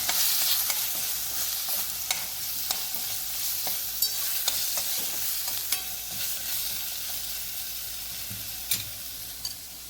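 Elephant foot yam pieces sautéing with chili powder, coriander powder and salt in a pan, a steady close sizzle with frequent sharp scrapes and clinks of a spoon stirring, no voices.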